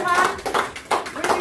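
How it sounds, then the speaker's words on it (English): A crowd claps in a short burst of applause for the night's musician at a pub quiz night in Quambatook, rising and falling in uneven waves with voices mixed in. "A big round of applause."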